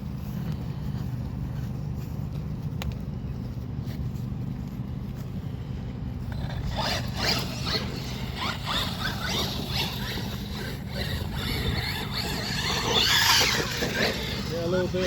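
A Redcat Valkyrie MT RC monster truck drives over grass and dirt and climbs a bank, its electric motor whining and rising in bursts under steady outdoor noise. People talk throughout.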